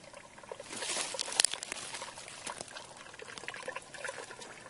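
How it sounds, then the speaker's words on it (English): Water runs unseen beneath the ground near old huts on an incline, a soft continuous trickle and gurgle heard faintly up close with no talking. "There's water running under there."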